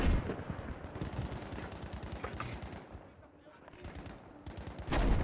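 Rapid machine gun fire rattles through a Battlefield V match in fast, dense bursts, pausing briefly before another loud burst near the end.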